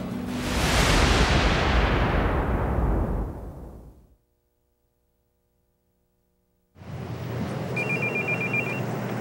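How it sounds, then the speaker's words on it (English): A cell phone rings loudly on a golf course during a Wednesday Pro-Am, a sweeping electronic burst fading out over about four seconds, then silence, before another bright ringing passage with a repeating melodic tone returns. "That would be a cell phone"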